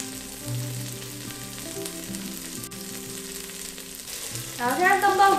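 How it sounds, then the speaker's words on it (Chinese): Frozen tofu sizzles steadily in vegetable oil in a soup pot, a constant close frying crackle with a stirring clatter, swelling louder near the end. "先把我们的冻豆腐煸到金黄色，一定要煸到它有点硬硬脆脆的哦"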